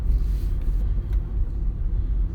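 Steady low road rumble from inside a moving car, a continuous engine and tyre drone with no speech over it.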